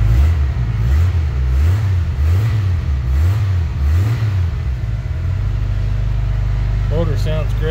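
A 1985 Jeep CJ7 engine revs in a rhythmic series of close, loud pulses, then settles into a rough idle as a voice speaks briefly near the end.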